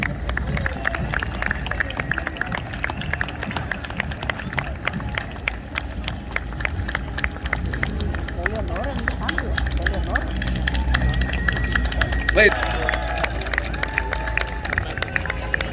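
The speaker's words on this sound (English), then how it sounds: "Round of applause." Crowd applause during an armed forces parade in Torrance, with a Navy officer being introduced, a continuous wash of clapping and cheering spread across a large outdoor crowd, while a voice speaks over it through much of the stretch.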